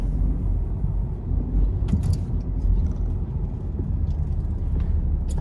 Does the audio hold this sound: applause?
no